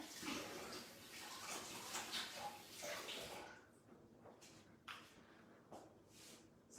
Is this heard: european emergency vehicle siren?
no